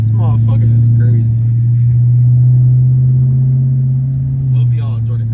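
A Dodge 6.4-litre SRT8 V8 with a suspected lifter tick or exhaust leak drones loud and close at a steady low pitch, with brief talk at the start and end.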